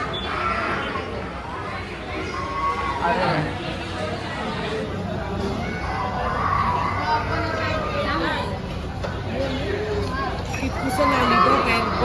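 Dense, steady babble of many diners fills a busy Agri-style restaurant in Mahabaleshwar, with nearby voices talking over the constant crowd murmur throughout.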